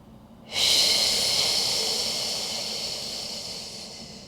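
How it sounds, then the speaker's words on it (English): One long, close breath drawn through the nose during a pilates flow, a steady airy rush that starts abruptly and slowly tapers over several seconds. "Big inhale through the nose. And then exhale."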